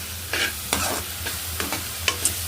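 Peas, carrot and beans frying in a pan for spicy vegetable rice, a loud close sizzle broken by repeated scraping stirs of a spoon in an uneven rhythm, no voices.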